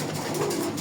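A pair of Golla pigeons coo in a low, steady, close murmur that runs without a break for under a second, with no talk over it.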